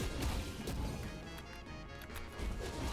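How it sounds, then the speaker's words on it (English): A ground pound in the Brawlhalla fighting game lands with a ground-shattering effect, a loud crashing smash with crackling debris that sustains across the whole stretch, dense and close, with no talking. "Even the ground pound has an effect, bro. It has a ground shattering effect."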